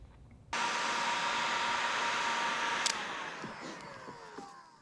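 A heat gun blows with a steady, loud rushing roar as it heats the front cover of a SkyTrax PSRU on a Yamaha APEX engine, switching on abruptly and running continuously, with a light click midway.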